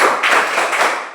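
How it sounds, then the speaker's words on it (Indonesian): Students in a classroom break into brief applause for all the participating groups, a dense, steady patter of hand claps close by that fades slightly at the end. "Jadi kita tepuk tangan dulu untuk semua kelompok"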